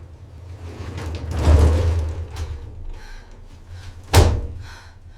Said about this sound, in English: The elevator jolted once more.